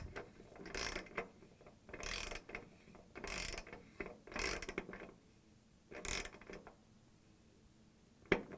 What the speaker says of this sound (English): and the wrench. We're going to tighten it.